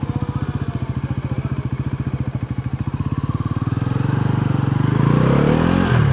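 A KTM motorcycle engine runs with a fast pulsing beat and then revs up as it accelerates, rising in pitch and loudness. It is close and loud, with no talk.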